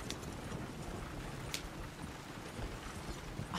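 Horse hooves clip-clopping steadily along a road in the video game Red Dead Redemption 2, faint and distant, with a soft mechanical rattle under a continuous low background.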